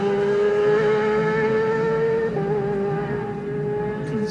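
A Yamaha race motorcycle with a new engine pulls away from the start at the Classic TT Junior race on the Isle of Man, a sustained high engine whine that climbs, shifts once, and fades slightly.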